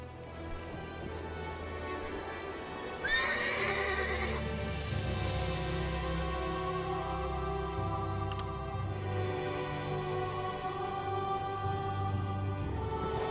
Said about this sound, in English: Kasura has agreed to let us borrow her horses.